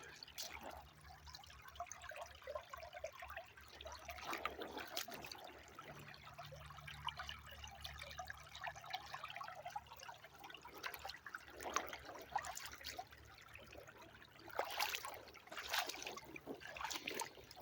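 Creek water runs in Alabama after a flash flood, a quiet steady trickle and gurgle with occasional louder splashes and rustles nearby and no talking.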